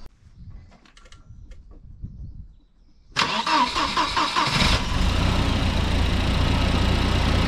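A Volvo 940 Turbo, fitted with a new thermostat, sits quiet until its starter cranks briefly and the engine fires loudly into a steady, rough idle that runs to the end, close by.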